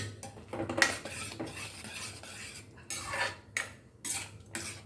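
Cut mango and cashews being added to rava kesari made with ghee and coconut milk, a spoon clinking and scraping against the pan in short irregular strokes, close by, with no talking.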